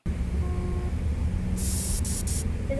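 Three quick hissing bursts of Axe body spray in a 2000s TV commercial, close and sharp, over a low background hum.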